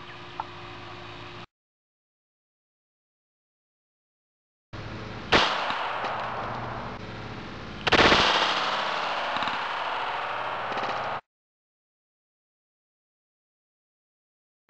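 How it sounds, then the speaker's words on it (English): Two sharp, loud 9mm Luger shots from a Taurus PT92 test gun firing Winchester 147-grain JHP rounds, spaced a few seconds apart, each followed by a sustained noisy tail, with quiet gaps before and after. "Test gun for the 9mm is PT92."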